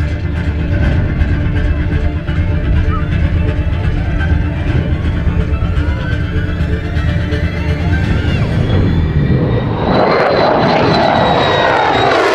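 A Lockheed Martin F-35A Lightning II jet from 2OCU roars past in a display at the Central Coast Airshow 2022, its engine a loud, continuous blast that swells and shifts into a rising whine as it passes close overhead.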